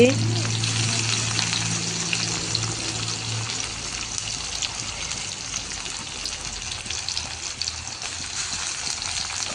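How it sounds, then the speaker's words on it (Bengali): Chopped garlic frying in a pan, a steady close hiss and sizzle of oil holding at an even level throughout, with a low rumble in the first couple of seconds. "দিয়ে দিলাম এখন এগুলা সব কিছু লাল লাল করে ভেজে নেব"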